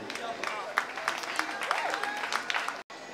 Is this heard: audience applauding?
yes